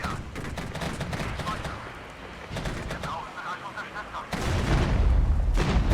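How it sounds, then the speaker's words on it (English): In the Regiments game, an artillery barrage pounds in a continuous stream of booms and cracking shots that thickens into a louder, heavier rumble toward the end. "Let's just arty this."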